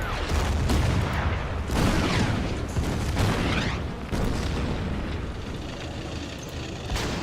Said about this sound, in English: there's also an artillery piece which is just in range of my stuff over here. Okay, let's start pounding this one.